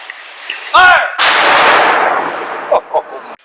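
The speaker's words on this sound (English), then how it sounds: "A friction primer which actually fires the cannon." A Civil War cannon, set off with a friction primer at Shiloh National Military Park, booms once loud and close, its blast rolling out into a long fading roar with faint voices around.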